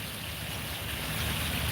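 Steady, dense rushing of a waterfall in Palm Springs, California, a constant close wash of falling water with no voices.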